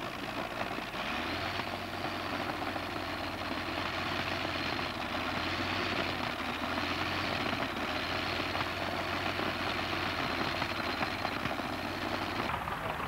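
A 1987 NTPA pulling tractor powered by two V12 Allison aircraft engines gives a steady, droning roar that holds evenly without pauses and sounds somewhat distant.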